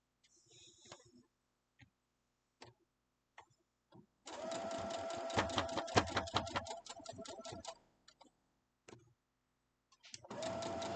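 A sewing machine stitches a quilt block in two runs, a steady rapid whirring hum of stitching in the middle and another starting at the end, with scattered clicks and handling taps in the quiet gaps.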